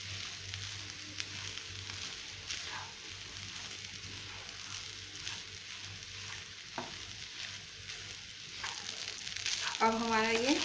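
Soya chunk pulao sizzles quietly in a pan while being stirred and mixed, soft frying hiss with scraping stirs, ending in a louder scrape.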